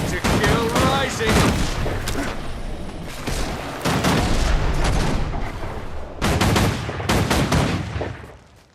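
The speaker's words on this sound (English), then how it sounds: "every couple of shots fires off a rocket. Every couple of rockets calls in an orbital strike" Rifle shots, rockets and an orbital strike blast in Guild Wars 2, loud close bursts of rapid fire broken by heavy booming impacts, coming in several dense clusters with brief pauses between.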